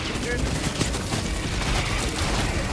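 Rapid, dense gunfire in a video game as players shoot down supervisors, a continuous fusillade of overlapping shots and bursts filling the whole moment at steady loudness.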